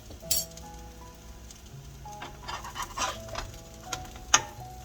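Potato biscuits frying in a pan on a stove set to high, a soft steady sizzle with a few scattered clinks and small pops over several seconds, no talk.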